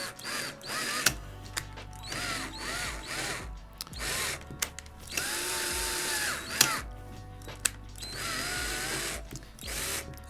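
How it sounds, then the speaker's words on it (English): A power drill drives screws into a carbon fiber bass neck in short bursts, a whirring motor that winds up, runs and stops repeatedly, with ratcheting clicks between runs, close and clear. "If you've got a torque setting on your drill, that's very helpful."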